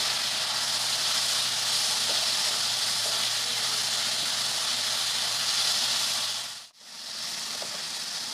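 Tomatoes fry in a pan for chicken gravy, giving off a steady broad hiss of sizzling that holds evenly, then briefly drops out near the end before resuming at a slightly lower level.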